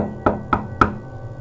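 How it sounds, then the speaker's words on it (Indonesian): Three sharp knocks on a door late at night, evenly spaced and close, each a crisp rap standing alone against near silence. "terdengar suara ketukan di pintu."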